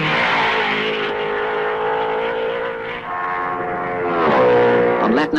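1955 Formula 1 race cars at the Belgian Grand Prix, their engines droning loudly and steadily near at hand, rising in a brief surge of revs toward the end.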